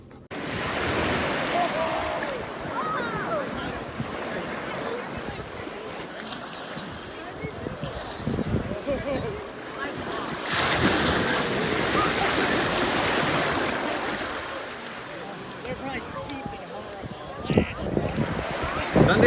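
Ocean surf rolls onto Head of the Meadow Beach in Truro, Massachusetts, with waves rising and falling in repeated washes and gusty wind buffeting the microphone.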